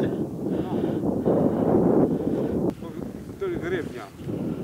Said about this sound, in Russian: Да что-то ветер подниматься начал.